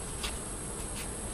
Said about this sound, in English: I see a lot of bees hovering around the cracks on the top